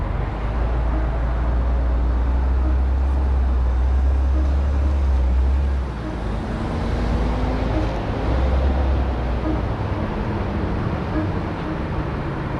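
A 2025 Mazda CX-70 climbs a small ramp in all-wheel drive, a steady low engine and road rumble heard from inside the cabin throughout, swelling and briefly dipping midway.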